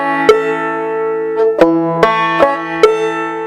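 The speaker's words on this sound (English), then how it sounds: "You can also pull off the third string while striking the fourth and the second." A banjo plays a slow round peak pattern, pulling off the third string while striking the fourth and second, five or six twangy plucks at a relaxed, slightly uneven pace, each ringing out, close and solo.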